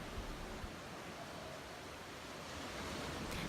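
Surf washes onto a South Coast beach on the Caribbean Sea in Barbados, a broad continuous roar of breaking waves with a slight swell toward the end and no voices.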